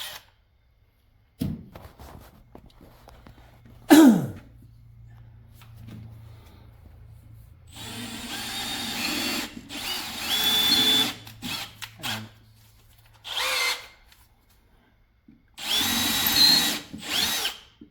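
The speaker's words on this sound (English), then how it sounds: "and I'm drilling it." A power drill whirs in several loud bursts of a few seconds each into a Liberty billet transmission case, separated by pauses, with a low hum and occasional clunks between them.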